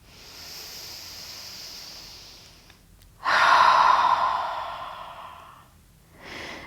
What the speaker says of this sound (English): Deep breaths so that you can feel the belly and the chest expanding underneath your hands.